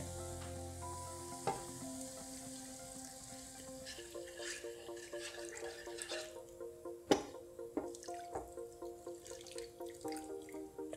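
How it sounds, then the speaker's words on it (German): Broth is poured into a cabbage salad dressing, giving a quiet sizzle with soft drips and trickling. Faint clinks and a few sharper taps are heard, with no speech. "dann gebe ich die Brühe rein"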